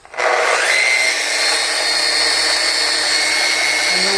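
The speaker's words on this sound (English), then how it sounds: "We'll put this in the grinder mode first." A machine-surface restoring tool in grinder mode spins up and runs steadily with a high, whirring grind, loud and close, continuing without pause.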